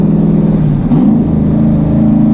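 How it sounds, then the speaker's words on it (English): A 1200 hp twin-turbo V8 in a C6 Corvette revs loudly and close by, a deep, rumbling engine roar that rises in pitch partway through. "There's nothing better than a V8 with twin turbos."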